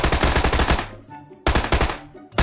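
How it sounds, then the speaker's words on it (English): Bursts of automatic machine gun fire and gunshots in PlayerUnknown's Battlegrounds, two loud rapid volleys separated by a brief pause, with no talk over them. "I hear all these fucking gunshots."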